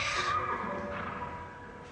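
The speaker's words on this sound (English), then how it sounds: "it was loud enough to startle the horses." A horse whinnies loudly up close, a high drawn-out neigh that fades into a low, steady rumble.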